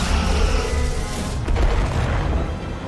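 Starship weapons fire at a Zeldi ship in the Star Trek Resurgence video game, a dense, continuous barrage of deep booming blasts and rumbling impacts that stays loud throughout, with no speech.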